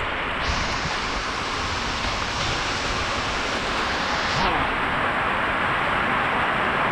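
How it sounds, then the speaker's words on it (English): Steady, dense hiss of rain pouring down, loud and unbroken throughout, like a heavy downpour close by. "It's raining, it's raining."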